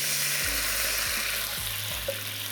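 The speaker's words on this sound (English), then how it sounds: "deglaze my pan with just a little bit of the beef stock I'm going to be using for this recipe" A pan is deglazed with a splash of beef stock, giving a dense, even sizzle with a few low scraping strokes as the bottom is worked, close and steady, with no voices.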